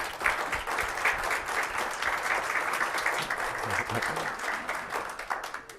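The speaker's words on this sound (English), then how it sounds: "Let's give them a round of applause." A room full of people at a curry cooking class breaks into steady, sustained applause, with dense clapping running for several seconds at a fairly even level.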